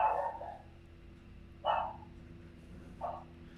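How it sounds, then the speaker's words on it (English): A dog barks three times, loud and close, with gaps of over a second between barks against a quiet indoor background. "You heard that barking before?"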